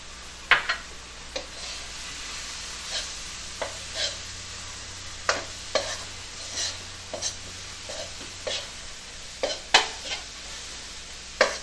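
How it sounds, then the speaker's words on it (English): A spoon stirs roux into a crawfish etouffee mixture in a pot. It makes repeated soft scraping strokes with light clinks at a steady rhythm, over a faint background hum, with no talking. "And then we're going to stir it all together."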